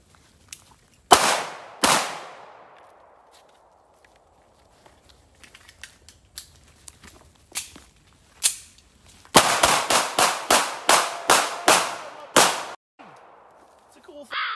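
Shots from a 9mm S&W Pro Series 1911 pistol ringing on a distant steel swinger target: two sharp reports early, a pause, then a rapid string of about eight shots with metallic pings, all loud and close with no talking.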